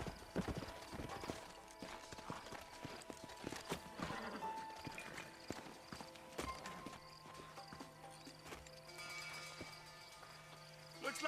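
Horse hooves clip-clop in Red Dead Redemption as riders slow and halt, a dense run of hoofbeats and clatter with a brief whinny, moderately loud over outdoor game ambience.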